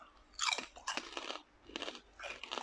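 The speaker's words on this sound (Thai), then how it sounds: "ให้ดูใกล้ๆนะครับ ฟังเสียงกรอบเองแล้วกันครับ" Crisp Yada Boon pork cracklings are crunched up close, in several short bursts of chewing separated by brief pauses.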